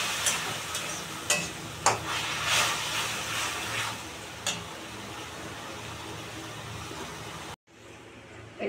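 Taro leaves (kochu shak) frying in a pan with green chili, dried chili, black cumin and a little jaggery give off a steady sizzle, broken by several sharp scrapes of stirring before a brief cut.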